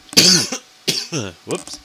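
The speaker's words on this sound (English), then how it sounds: "Coughing." A few short, harsh coughs close by, in quick bursts, with a brief spoken exclamation between them.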